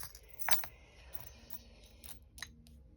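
Small gris-gris charms cast onto a surface, a sharp metallic clatter at the start followed by a few faint clicks and a light tinkle, close and quiet, with no talk.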